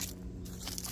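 Close, wet crunching and chewing of a cat eating a squirrel, with scraping and biting sounds in short bursts.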